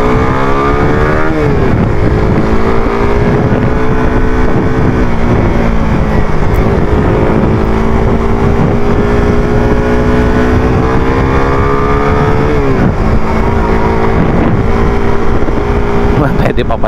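A Suzuki Raider 150 Fi motorcycle engine hums and rises in pitch as it is ridden, loud and continuous with heavy wind rumble, while someone talks over it.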